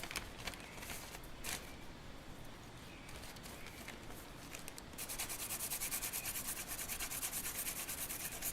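A blade being sharpened on 220 grit sandpaper, close rhythmic rubbing strokes, softer and scattered at first, then a fast, even, louder run of scraping passes.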